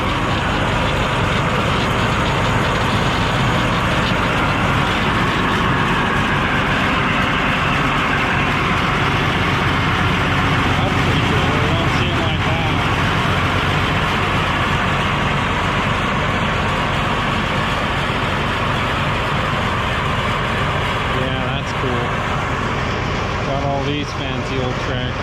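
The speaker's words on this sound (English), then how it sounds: "These fancy old tractors." Old tractors, including an Oliver diesel, idle while waiting for a parade to start, a constant broad engine drone that stays loud and steady throughout as people chat nearby.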